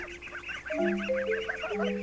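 Several runner ducks call close by, a busy run of nasal, honking quacks that overlap and stack into a steady noisy chatter lasting the whole stretch.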